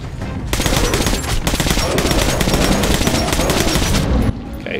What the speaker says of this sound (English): It sounds in between like a silencer and a loud weapon